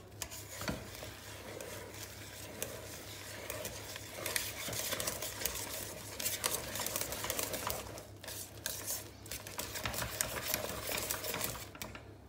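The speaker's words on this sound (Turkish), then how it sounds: "Şöyle içine yarım çay bardağını geçkin bir süt boşaltıyorum." Milk is poured into a pan over the lowest heat and whisked for a meatball mixture, producing a continuous, soft rhythmic stirring and light scraping that runs for about twelve seconds, with no speech.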